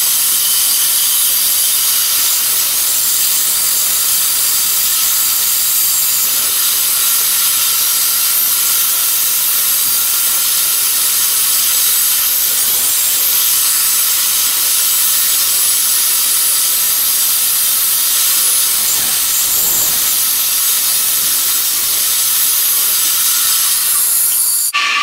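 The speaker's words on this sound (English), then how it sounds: "I'm gonna cut this circle nice and smooth" A saw cuts a circular wooden plate blank for turning. It makes a loud, continuous, close hissing rasp that holds steady for the whole stretch with no pauses.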